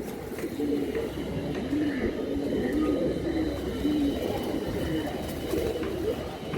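Pigeons coo continuously in low, rolling phrases at a busy pigeon market, with a steady background hum of crowd and ambient noise under the calls.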